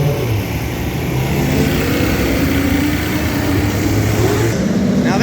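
Race cars pull out onto the Road Atlanta track at an HSR Classic event, their engines making a loud, steady roar that drones on without a break.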